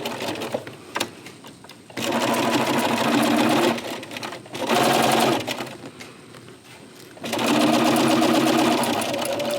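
A sewing machine fitted with a walking foot stitches fabric for a pencil cup organizer, running in three loud, steady bursts of rapid mechanical whirring separated by brief pauses.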